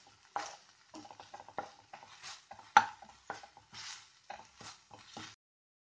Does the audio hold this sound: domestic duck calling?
no